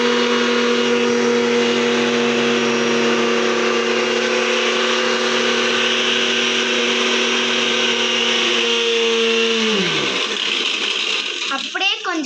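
A mixer grinder whirs steadily as it grinds hibiscus leaves and flowers into paste for hair oil, a loud continuous motor hum that drops and winds down near the end, with a bit of talk over it.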